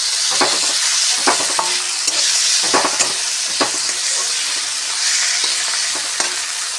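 Chopped tomato frying in oil with ginger and garlic sizzles steadily up close, while a spatula stirs it in repeated scraping strokes that land at irregular moments.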